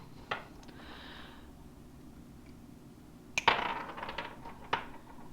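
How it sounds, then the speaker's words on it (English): Side cutters snip soft lead tails off freshly molded Ned rig finesse jig heads, giving a few sharp, close clicks and small metallic clinks spread over several seconds in a quiet room. "this is a pair of side cutters, and just snip right there behind them"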